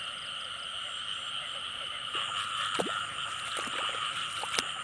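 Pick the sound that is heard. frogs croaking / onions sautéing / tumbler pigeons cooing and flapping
frogs croaking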